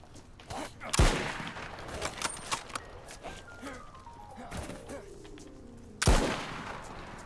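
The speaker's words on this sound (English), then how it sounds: "Oh, I already shot by the time I said that." Gunfire in the DayZ video game: two sharp, loud shots several seconds apart, with faint game sounds and a falling tone between them.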